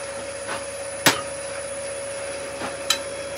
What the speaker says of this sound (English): I'm going to do that now just with a little negative rake scraper